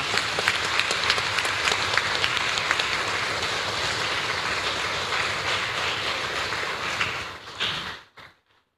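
A church congregation claps loudly and continuously to honor elders at an intergenerational worship service, a thick steady roar of hands that cuts off abruptly near the end.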